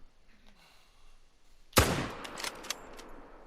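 A single loud rifle shot rings out in a red deer stag hunting video game near a lake, a sharp close blast followed by a decaying rumbling tail and a few faint crackling echoes.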